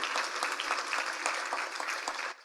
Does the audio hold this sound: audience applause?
yes